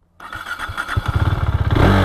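KTM 390 Duke single-cylinder motorcycle starting up: a brief starter whir, then the engine catches and settles into a loud, close, throbbing idle with rhythmic pulses.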